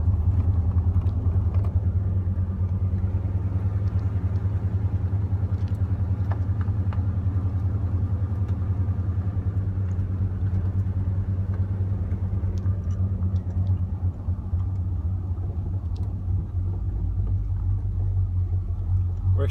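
A steady, loud low engine rumble of cars driving on a racetrack, continuous throughout with no voices.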